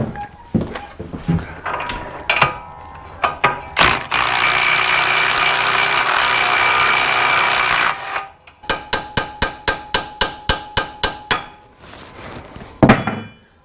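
An impact wrench works on a shock bolt of a Dodge Dakota, with loud metallic knocks, a sustained whirring burst of several seconds, then a rapid train of sharp hammering pulses, close up and without speech.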